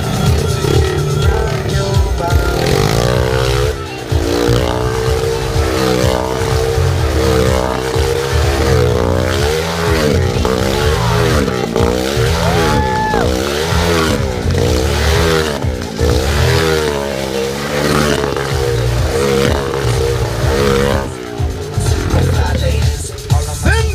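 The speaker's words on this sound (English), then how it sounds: "Watch as Sindel demonstrates a combination of motorcycle madness and girl power." Motorcycle engine roaring and revving continuously inside a steel globe at the Northeast Alabama Fair in Huntsville, loud and close with rising and falling pitch sweeps as the bike circles, no talk heard.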